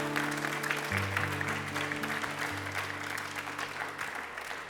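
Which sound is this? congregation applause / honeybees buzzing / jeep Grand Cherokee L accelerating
congregation applause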